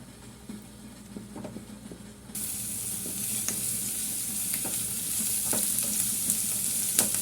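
Ginger and garlic being stirred in a hot frying pan, with a steady sizzle that jumps louder partway through and repeated scraping strokes of the spoon on the pan, close and alone.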